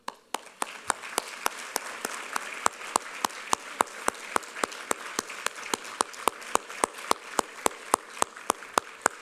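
Applause from the audience at an evening awards ceremony honoring Fellows, a steady run of sharp claps from a smallish crowd, moderately close and lasting throughout with no talk over it.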